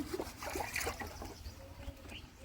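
Water trickles softly while dishes are being washed, with small scattered clinks and drips. The sound is faint and close, with no voices.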